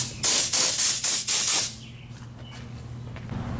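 Compressed air blows off a bucket seat part for a 442 restoration, six loud bursts of hissing spray in quick succession, then a quiet hum of background noise.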